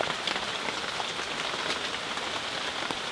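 Light rain falls steadily outdoors in a garden, a dense, even patter of drops on surfaces with no voices and no pauses.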